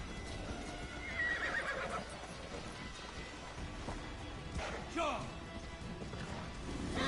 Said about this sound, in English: I'm calling my horse.